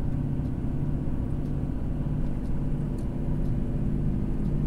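A Volvo FH 460 truck loaded with 36 tonnes descends a mountain road in the Serra de Joinville, its engine giving a steady, loud low rumble heard from inside the cab with no talking.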